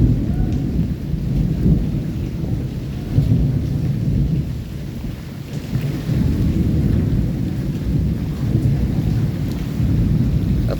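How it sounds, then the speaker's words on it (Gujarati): A heavy monsoon downpour over Rajkot roars continuously, with rolling thunder swelling and fading in low rumbles for several seconds, loud and unbroken, without any talking. "સતત વીજળી થઈ રહી છે, સતત પડી પણ રહી છે."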